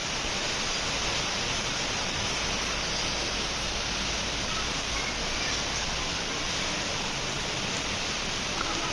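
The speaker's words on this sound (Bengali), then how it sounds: "সারাদিন রোদ তাপ পর এখন বৃষ্টি হচ্ছে।" Rain falls steadily after a hot day with no wind, giving a dense, even wash of noise that stays constant throughout with no voices.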